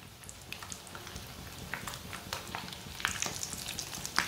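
Egg-coated potato tikkis rolled in vermicelli fry in a pan with a soft, continuous sizzle and scattered crackling pops that grow busier toward the end. Nobody speaks.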